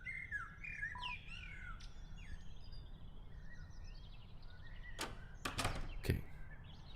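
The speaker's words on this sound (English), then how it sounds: "I love the sound of the birds, it's so nice." Birdsong in the video game Deltarune: several high chirps and tweets trill through the first seconds over a steady low ambient hum, followed near the end by a few sharp, brief knocking or chopping sounds.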